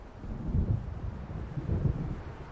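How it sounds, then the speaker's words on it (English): Low rolling thunder from an approaching storm in the video game Alan Wake Remastered, two soft rumbling swells rising and fading over a steady wash of rain and wind, distant and fairly quiet. "It seems there's a storm coming."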